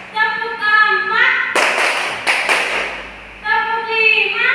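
A third-grade elementary class claps a short rhythm pattern together, a burst of several quick group claps between stretches of an adult voice talking.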